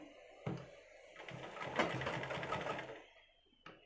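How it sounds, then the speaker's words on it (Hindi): A sewing machine top-stitches the collar of a long kurti, its quick needle chatter rising into a steady run for a couple of seconds before tapering off, fairly close and moderately quiet. "ऊपर की और भी कॉलर में टॉप सिलाई चलाते जाएंगे"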